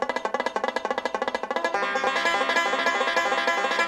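Rapid, evenly spaced plucked banjo notes ripple out in a fast, metronomic picking pattern, then blur into a dense, shimmering sustained wash near the end.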